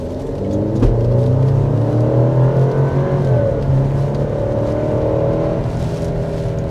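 A 2024 Alfa Romeo Stelvio Competizione with a 2-liter turbo four accelerates hard from inside the cabin, engine pitch climbing through shifts in a steady whirring rumble, easing off near the end as braking begins.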